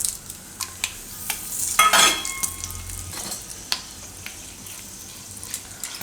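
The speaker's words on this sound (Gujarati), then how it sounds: "તો તેલ આપણું ગરમ થઈ ગયું છે. તો એમાં પહેલાં આપણે નાખીશું આ આખા મસાલા બધા ને તેજપત્તા," Whole spices and bay leaves dropped into hot oil for a Gujarati dum banana curry, giving a brief loud burst of sizzling with clinks of a pot and stirring, then a quieter steady crackle.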